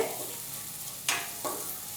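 Ginger garlic paste is stirred into a tomato rice masala in a pressure cooker. Steady close frying hiss runs throughout, with two short scraping strokes of a spoon near the middle.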